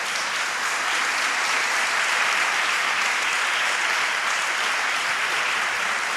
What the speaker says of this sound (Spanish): un aplauso para las tres y vamos a comenzar con la mesa